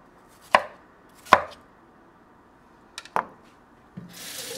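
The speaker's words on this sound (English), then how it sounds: "Everything you cut into cubes, same size." A knife chops tomato and other vegetables into even cubes on a cutting board for sweet and sour catfish soup: four or five distinct sharp knocks, close and clear, spaced irregularly, with no talk.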